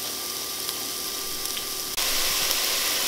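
Hot Italian sausage sizzles steadily in a pan as it cooks for a spaghetti sauce, a constant bright hiss that swells louder partway through as more meat goes in, with no voices.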